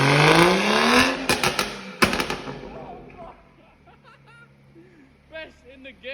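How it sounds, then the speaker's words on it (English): A Stage 2 tuned BMW M240i, moon mapped and set up for flames, revs hard up close with loud crackling pops and bangs, then the revs fade to a rumble while people talk and laugh nearby. "Give me a rev."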